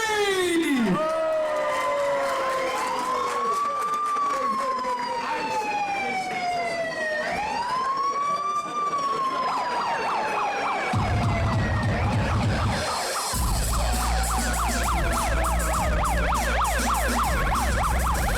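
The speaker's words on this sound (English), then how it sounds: "If you can hear this commentary over the blaring siren" A loud siren wails continuously, rising and falling, then switches to a rapid yelping pattern with a low horn-like drone underneath.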